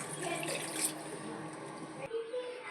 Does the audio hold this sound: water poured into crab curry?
yes